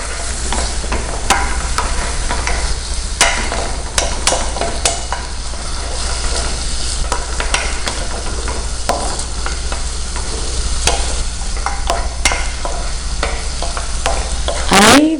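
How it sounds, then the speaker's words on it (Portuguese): Chopped onion sizzles steadily in a hot pan, close and continuous, with scattered clicks and scrapes of a spoon stirring through it and a brief louder scrape near the end. "Aí você vai pegar a cebola e jogar. Até fazer esse barulhinho legal."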